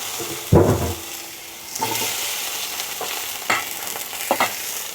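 Potato pieces frying in a small amount of leftover oil in a pan, a steady soft sizzle broken by a few loud stirring scrapes and clatters, with no talking.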